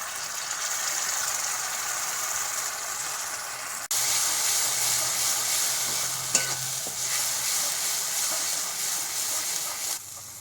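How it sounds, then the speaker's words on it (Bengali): Fish curry cooks down in hot oil with mustard paste in a home kitchen. A steady, loud sizzle and hiss runs throughout, with a spatula stirring and scraping close by and a brief clatter near the middle. "সরষে বাটা দিয়ে আবারও কিছুক্ষণ কষিয়ে নেব"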